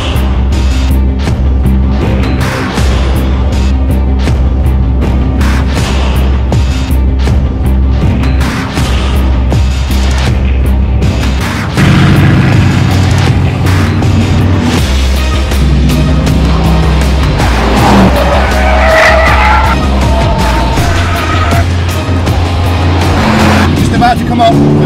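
A Mercedes-AMG GT S driven hard around the Laguna Seca racetrack, its engine roaring loud and steady throughout, with revs rising and falling through corners and a voice talking over it.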